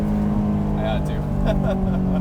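A naturally aspirated Honda S2000 AP2 track car engine revving toward 8,400 RPM, a steady droning engine tone heard from inside the car while people talk over it.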